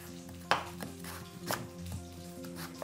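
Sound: knife chopping vegetable into thin slices

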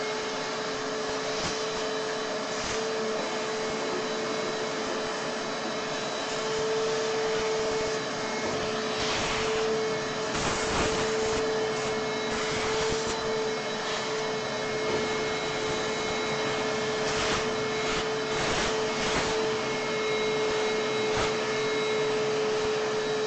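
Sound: shop vacuum cleaning up chips

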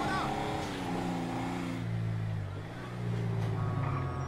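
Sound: Toyota Hilux Revo driving in video game GTA 5

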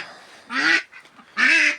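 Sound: crested duck drake quacking

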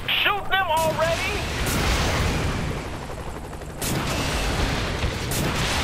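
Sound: gunfire from the video game Saints Row: The Third

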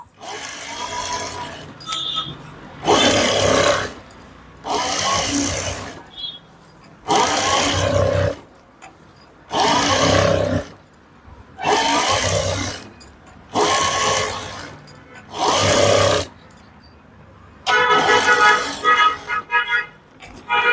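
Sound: sewing machine stitching a saree hem

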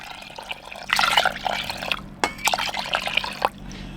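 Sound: pouring water into a pot

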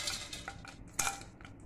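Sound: spoon adding edible gum to warm ghee in pan

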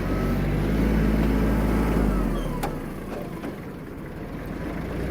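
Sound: Kubota KL-230 FL Japanese mini tractor engine running

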